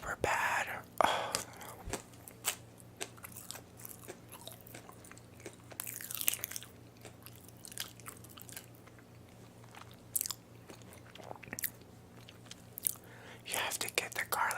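Close-up ASMR chewing and crunching of pickles and garlic parmesan chips, with irregular crisp bites and wet mouth sounds over a low steady hum, and soft whispered speech in between.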